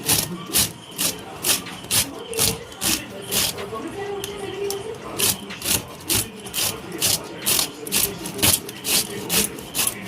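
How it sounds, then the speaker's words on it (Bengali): Peeled raw papaya is rubbed down a hand grater for chutney, giving repeated rasping scrapes in a steady rhythm, close and fairly loud. "এই গেটারের সাহায্যে পেঁপেটা ঘষে নেব দেখুন এইভাবে ঘষে নিতে হবে"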